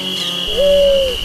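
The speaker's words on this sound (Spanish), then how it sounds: "comenzaron a escuchar, en el silencio de la siesta, el canto lastimoso de las palomitas lloronas" A mournful dove (palomita llorona) coos once in a long, drawn-out, steady tone, heard alone against a faint constant hiss during a quiet siesta-time scene in a story.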